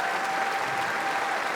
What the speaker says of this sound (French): On applaudit très fort à Adil Rami